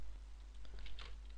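Keys clicking on a computer keyboard while HTML is entered on a web page, a light irregular patter of taps at close range over a low steady hum, with no voices.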